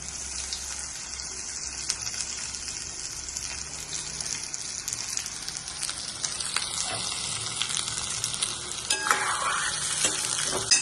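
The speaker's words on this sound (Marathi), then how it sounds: "आणि त्यासोबत कांदे, तीळ आणि खसखस हे आपण परतून त्याची पेस्ट करून घेऊया" Onions, sesame seeds and poppy seeds sautéed in a pan, a close steady crackling sizzle with stirring scrapes that grows slightly louder and busier toward the end.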